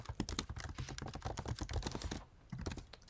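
Computer keyboard keys tapped in quick, uneven bursts while an email address is entered, close and fairly quiet, with a short pause near the end before the typing resumes.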